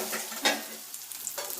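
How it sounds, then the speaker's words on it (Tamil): Onion and tomato sautéing in a pan for sambar give a soft, continuous sizzle close by, with a few brief stirring scrapes and small crackles over a steady hiss. "இது நல்லா ஒன்று கூடி வதங்கட்டும்."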